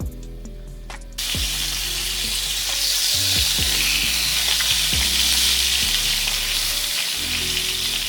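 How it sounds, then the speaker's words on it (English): Chicken breast browns in a hot pan with olive oil, a loud steady sizzle that starts abruptly and continues throughout, with faint background music underneath. "Now brown your chicken breast for a few minutes on each side."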